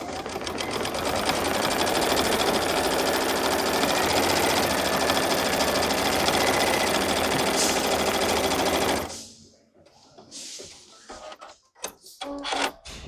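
An embroidery machine stitching an appliqué placement outline for a heart whirs in a fast, steady mechanical rhythm for about nine seconds, then stops, followed by quieter handling clicks and rustles.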